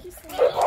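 Small dogs let out a couple of quick yips and whimpering barks close up, indoors, with someone speaking over them.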